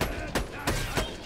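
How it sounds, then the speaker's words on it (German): Gunfire in the video game Borderlands 2 crackles in three quick separate bursts at moderate volume within a second. "wo kommen die scheiß Schüsse denn her?"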